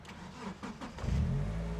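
A Mitsubishi car engine cranks briefly and catches, then settles into a deeper, rising idle rumble from an aftermarket, racing-style exhaust, heard up close with no speech.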